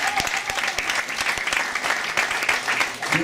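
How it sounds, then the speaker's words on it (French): An audience at a Paris tribute concert applauds loudly, a thick, continuous roar of clapping with crisp individual claps standing out and a voice faintly underneath. "S'il vous plaît, on l'applaudit bien fort, s'il vous plaît."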